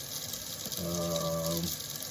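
Water running from a kitchen tap through a Brita faucet-mount charcoal filter, a steady close hiss of flow with a brief tonal hum partway through.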